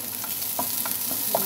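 Spinach sautéed in a pan with tomato, stirred with a steady frying sizzle and a few soft utensil scrapes spaced through the short stretch, close and moderately loud.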